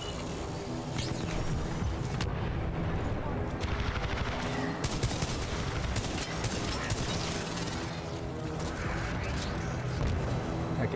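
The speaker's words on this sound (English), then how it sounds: "Now this is a shotgun and it's just a semi-auto rifle." Rapid gunfire from a shotgun in Titanfall 2, loud and continuous shots with mechanical clatter that nearly fill the whole stretch without a break.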